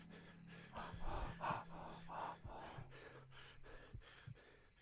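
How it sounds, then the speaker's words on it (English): Heavy, ragged breathing in a horror video game, a series of close, rhythmic gasping inhales and exhales over a low hum, strongest early on and tapering into quieter breaths. "That breathing is just scary."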